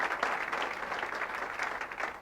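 Brief, fairly quiet applause from a group of people, an even patter of clapping throughout.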